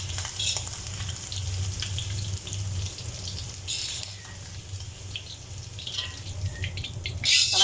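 Chicken pieces frying in a pan of oil for a Chinese-style chicken and bean sprout stir fry, giving a steady close sizzle with occasional bright crackles and a low hum underneath, no talking.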